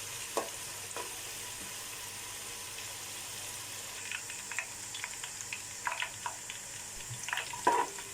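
Onions fry for chicken dum biryani, a faint, steady sizzle in the pan with occasional soft stirring scrapes and ticks that grow busier toward the end. No one talks.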